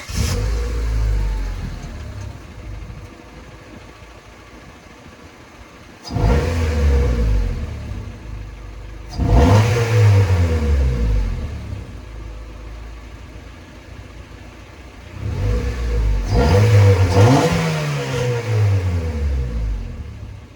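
Turbocharged Honda Civic on a full 2.5-inch exhaust with muffler, idling and then revved hard three times with a rising and falling engine note, loud and close, with no talking.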